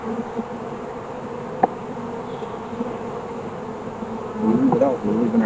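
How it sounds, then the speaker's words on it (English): Honeybees drone steadily around an open beehive during a brood-frame inspection, a close, continuous buzz that swells briefly near the end, with a single sharp tap partway through. "the bees are going to go back in"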